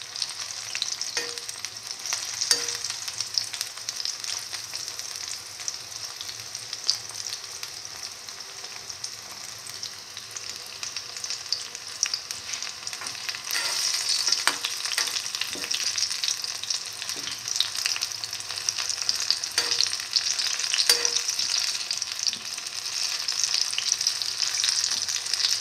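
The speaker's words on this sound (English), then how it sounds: "Turn it over and let it fry." Chickpea, beef, tomato and fenugreek fritters fry in a pan with a steady close sizzle that swells slightly midway, dotted with occasional scrapes and taps from turning them.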